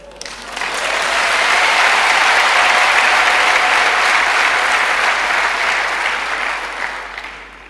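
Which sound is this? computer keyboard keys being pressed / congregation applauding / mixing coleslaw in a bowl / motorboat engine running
congregation applauding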